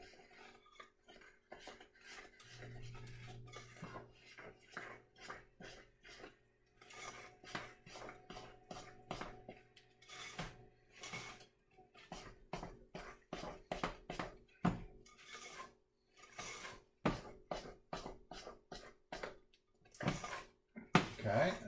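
A spoon stirs peanut butter bread batter with milk in a bowl, producing repeated scraping clinks against the bowl in an uneven rhythm, with occasional talk.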